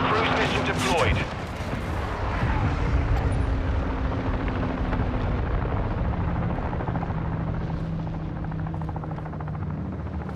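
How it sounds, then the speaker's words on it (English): Video game Call of Duty: Modern Warfare II, friendly cruise missile strike: a loud booming blast at the start, then a sustained roaring rumble of explosions and aircraft-like drone that slowly fades over about ten seconds. "Friendly cruise missile deployed."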